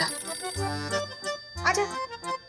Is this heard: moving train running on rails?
no